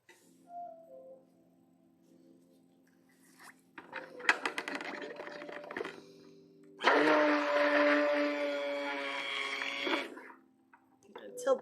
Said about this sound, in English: let's start blending